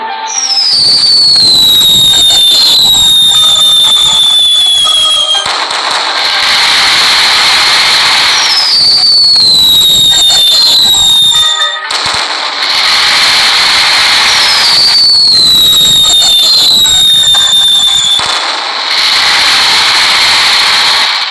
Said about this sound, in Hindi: ऐसे ही ये लोग सारे पटाखे फोड़ने लगते हैं।